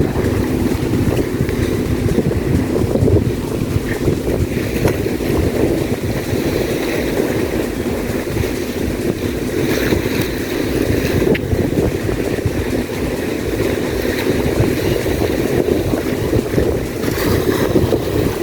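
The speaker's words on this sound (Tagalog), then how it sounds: "Alon." Sea waves wash against the shore at a bayside baywalk in Masinloc, a steady broadband roar mixed with strong wind buffeting the microphone, continuous and fairly loud with no talk.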